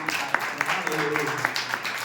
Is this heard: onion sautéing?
no